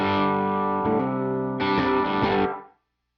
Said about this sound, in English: it's solely just a little bit of clean boost on here from the Westwood, and it has a studio style reverb that I have on here